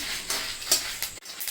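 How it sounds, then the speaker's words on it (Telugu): Dried red chillies frying in a pan, a soft continuous sizzle with a few louder bursts of crackle as they are stirred, close and without talk. "చూడండి, ఎండుమిరపకాయలు కూడా వేగుతున్నాయి."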